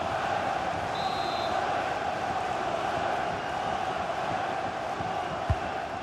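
Steady, dense roar of a football crowd at Shrewsbury vs Newcastle United as a corner kick is taken, a continuous murmuring wash throughout with a single soft thump near the end.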